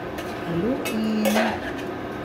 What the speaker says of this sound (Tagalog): Saka natin haluin.